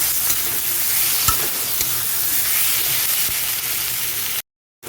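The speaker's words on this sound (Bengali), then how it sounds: "সব কিছু দিয়ে ভালো করে কষিয়ে নেব।" Turmeric powder, two slit green chilies and tomato sautéing in a pan for a light bata fish curry with ridge gourd: a close, steady sizzle with a few sharp stirring knocks, cutting off abruptly into silence at the end.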